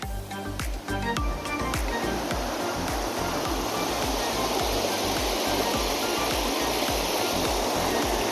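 A forest stream near Araku, by a resort, gurgles and rushes steadily, a dense close wash of flowing water with no talk over it.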